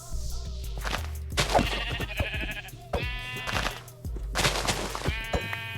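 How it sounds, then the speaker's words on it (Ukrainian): Sheep in Minecraft bleat several times in a row, loud, close and wavering, with short pauses and a low in-game background hum. "І зараз остання овця."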